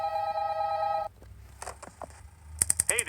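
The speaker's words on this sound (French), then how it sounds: "Tu réponds, il est là le téléphone." A telephone in a horror video game gives a steady electronic tone, then after a pause a few short beeps, then trilling rings near the end, all synthetic and close with no speech.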